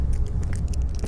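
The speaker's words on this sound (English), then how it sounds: "that horrible sound, that sort of scratching" An eerie scratching, chewing-like sound in Amnesia: The Dark Descent, a gritty crunching and gnawing texture over a low rumble, with brief clustered bursts.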